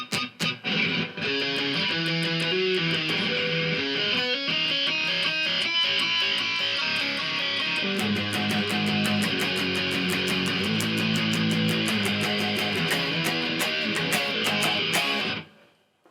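A heavily distorted electric guitar plays loud, crunchy metal chords and riffs through an amp, sustained and dense for about fifteen seconds before cutting off abruptly.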